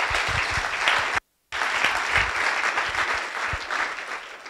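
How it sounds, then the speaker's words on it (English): Loud, dense audience applause at a conference in Paris greets a speaker, a steady wash of clapping hands continuing for several seconds with a brief dropout partway. "a big round of applause for Stefano"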